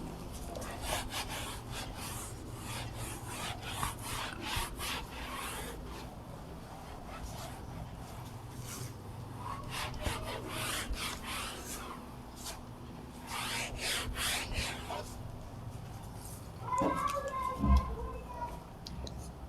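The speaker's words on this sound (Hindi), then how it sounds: "तो इसे मैं रब करता हूं।" A duster rubs writing off a board during a class 12 maths lesson, with repeated scraping strokes at moderate volume and a short burst of handling noise near the end.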